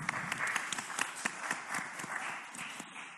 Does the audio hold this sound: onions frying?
no